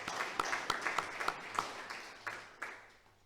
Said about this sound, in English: another round of applause for our BWA colleagues